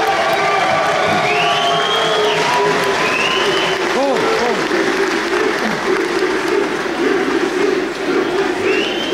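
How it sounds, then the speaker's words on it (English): A large crowd applauds, cheers and whoops for UFC fighter Vaughn Lee at a fight fan event, loud and sustained, with a few shrill whistles and shouts rising over the dense clapping. "Let's have a massive round of applause for Vaughn Lee"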